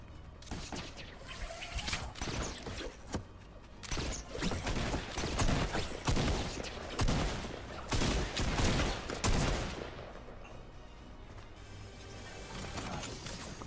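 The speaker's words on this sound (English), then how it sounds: "Ooh, I'm getting shot." Gunfire in the video game Fortnite: dense bursts of rapid shots and crashing impacts over a constant background, heaviest in the middle, then easing toward the end.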